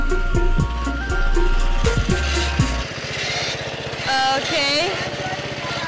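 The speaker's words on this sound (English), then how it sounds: "he's on his mower" A riding lawn mower runs nearby with a steady buzzing engine drone throughout, while someone speaks briefly over it.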